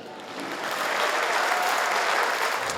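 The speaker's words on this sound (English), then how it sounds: "That's the only place he gets applause like that" Applause for the Ukrainian president addressing MPs in parliament, a dense, swelling roar of many hands clapping that builds quickly and holds steady.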